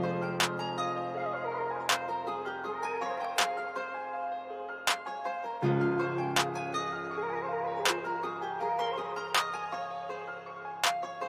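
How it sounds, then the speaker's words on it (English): Clap drum sample in FL Studio sounds on a regular beat over a guitar-style melodic loop, sharp bright hits recurring about once per second, close and clean with no talking. "The first drum sound I got was this Nick Mirror clap."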